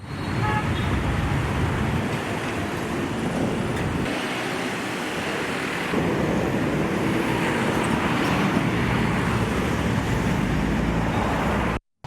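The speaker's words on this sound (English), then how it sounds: "a heavy influx of vehicles was seen at the entry points to Colombo today" Heavy road traffic at an entry point to Colombo roars steadily as a loud, dense wash of engines and tyre noise, continuous and close, cutting off abruptly at the end.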